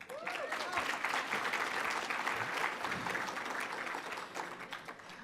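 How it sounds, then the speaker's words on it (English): A banquet audience bursts into a steady round of applause that swells early and slowly tapers, dense clapping in a large room with a few voices mixed in. "Round of applause."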